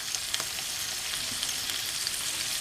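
Bacon and broccoli fry in a pan, a steady close sizzle with crackling pops and light stirring throughout, no voices.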